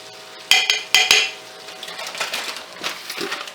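Frozen garlic being stirred around in a pan with a utensil: two sharp metallic clinks near the start, then softer scraping and rustling, close up, with no talking.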